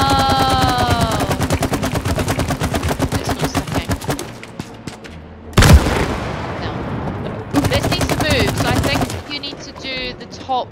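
Rapid bursts of gunfire from the video game It Takes Two, loud and dense with a sharp blast midway, another volley near the end, and voices speaking over the action.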